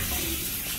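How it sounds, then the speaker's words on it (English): Water runs from a tap fed by an Ecosmart ECO Mini 2.5 gallon water heater, a brief steady stream of close gushing with no voices. "it will actually start to flow out as you see here"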